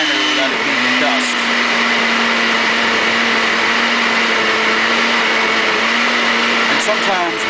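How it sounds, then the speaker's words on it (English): A blender on its icy-drink setting grinds foliage material for making clump foliage, a steady loud motor whir with a gritty churning texture running continuously throughout. "the setting for this blender is on an icy drink right now"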